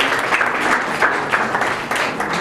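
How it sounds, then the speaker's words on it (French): Audience applause at a gathering of thanks, loud and continuous, with many hands clapping in a dense, even roar that holds throughout. "Il faut les applaudir."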